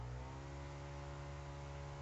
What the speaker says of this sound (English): Listen how high this V8 revs.